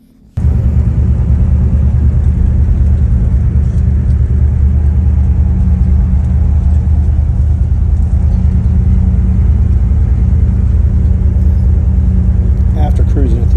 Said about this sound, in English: After cruising it through the neighborhood with no front brakes, nice and slow, I managed to get it home